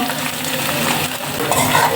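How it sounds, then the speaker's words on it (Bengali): Dried fish rubbed with salt and turmeric frying in oil, producing a loud, close continuous sizzle with faint scraping of a spatula against the pan, no voices. "আমি শুটকিটা একটু লবণ মাইখা তারপরে আরেকটু হলুদ মাইখা দিয়ে দিলাম।"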